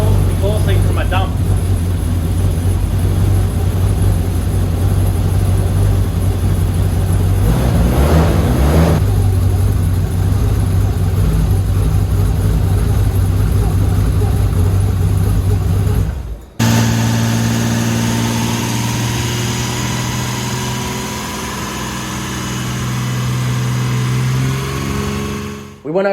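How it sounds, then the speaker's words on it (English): A Nissan R31's RB30ET turbo engine runs loud and steady with an exhaust leak at the dump pipe, a continuous droning rumble that cuts briefly and resumes, with talk over it. "Still got that exhaust leak from my dump."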